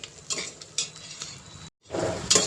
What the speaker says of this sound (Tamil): நல்லா வதக்குறோம். இப்போ எல்லாத்தையும் வெங்காயம் நல்லா கலர் சேஞ்ச் ஆகணும்.